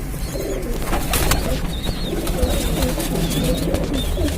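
A four-year-old pigeon coos softly and repeatedly against a steady background hum, with low throaty calls rising and falling over about four seconds.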